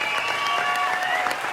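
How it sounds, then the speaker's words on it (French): Audience applause fills a live stage show on tour, a dense steady clatter of many hands clapping at fairly even loudness throughout, with no voices standing out. "Chloé Drouet, qu'on peut applaudir bien fort"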